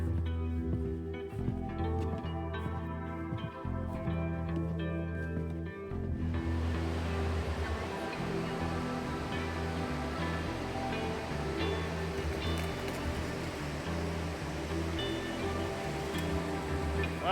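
Surf washes onto a beach on Vancouver Island as a steady, broad roar of breaking waves, with a constant wash that swells after the first few seconds.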